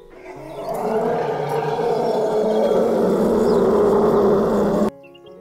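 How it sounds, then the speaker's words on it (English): An elephant lets out one long, loud trumpeting blast that swells in the first second, holds steady for about four seconds, then stops sharply. "E for elephant."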